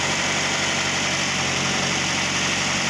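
A Toyota Vios engine, freshly overhauled, idles quietly and evenly with a steady low hum and light vibration, close by and alone, with no voices.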